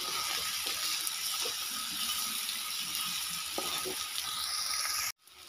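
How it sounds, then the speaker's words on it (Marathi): Boiled potatoes fry in a pan with a continuous close sizzle and occasional soft stirring knocks, then cut off abruptly near the end. "मस्त असं छानपैकी ह्याला हलवून घेते मी आता."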